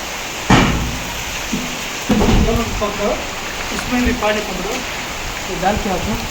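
Sudden rain falling around a house under construction, a steady hiss beneath several people talking excitedly, with a few sharp thumps.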